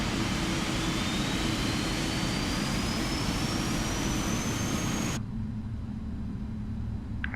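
A Boeing 777F freighter engine spools up during start in a flight simulator, a loud steady turbine roar with a rising whine that cuts abruptly to a quieter hum near the end.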